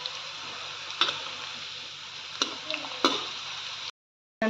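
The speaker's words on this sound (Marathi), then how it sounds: "एका बाजूने छान क्रिस्पी होऊ द्यायचे एका बाजूने छान झालेले आहेत आता आपण हे उलटवून घेऊयात" Bitter gourd slices frying crisp in oil give an even sizzle, broken by a few sharp clicks and scrapes as they are flipped, close up, ending in a brief cut to silence.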